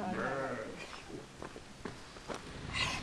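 A goat bleats in short nasal calls at close range amid a farm or zoo setting, with a few shuffling steps and someone talking nearby.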